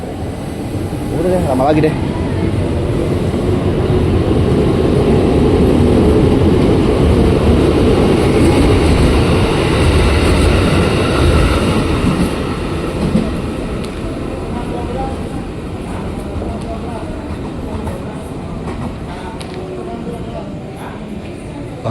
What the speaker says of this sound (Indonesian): ini langsung berangkat deh komuter tujuan Jakarta Kota sama Bogor juga